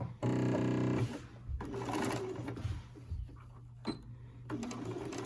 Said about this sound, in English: you're going to sew down this these little flaps that we ironed